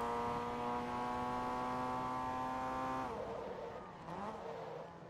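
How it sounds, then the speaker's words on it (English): A race car with a modified exhaust in Forza Motorsport 2 drones loudly at steady revs for a few seconds, then drops off with a brief tire squeal and fading engine noise, no voices. "So this thing's got a modified exhaust system, which is probably why it sounds a little louder than normal cars."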